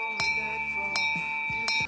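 A small chapel bell rings three clear strikes spaced evenly apart, each with a bright sustained ringing tone that lingers between hits, close and distinct.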